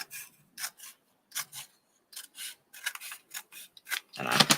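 Scissors trim the paper overhang off a page of a handmade bird and butterfly craft journal, giving a series of short, crisp snipping and rasping cuts close by, followed by a louder rustle of paper.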